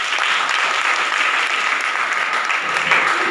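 Sustained applause from a school assembly crowd at A.L. Nomani Inter College in Mau, steady dense clapping throughout with no gaps.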